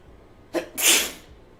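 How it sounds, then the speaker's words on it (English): A single sharp sneeze, close and loud, with a short intake of breath just before it. "As I sneeze."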